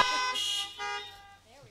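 Car horns honk together at a drive-in Mass in a parking lot: layered, sustained toots in two bursts with a short gap between them, loud and close. A voice is briefly heard near the end.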